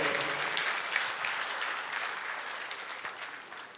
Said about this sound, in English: A round of applause for yourselves for coming out tonight.